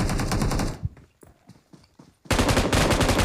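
Automatic gunfire sprays in BGMI (Battlegrounds Mobile India), a mobile battle royale game: a dense, loud burst of rapid shots, a quieter gap with scattered thuds and clicks, then another sustained burst.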